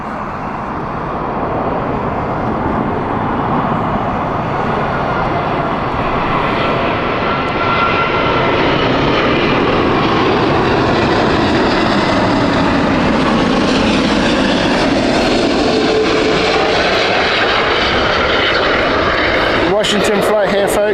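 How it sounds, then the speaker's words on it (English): An Airbus A380 jet touches down at Heathrow, its engines a loud, steady roar that swells and shifts tone across the whole stretch, with voices talking underneath. "Speedbird 29 Charlie, touching down with the beautiful Airbus A380"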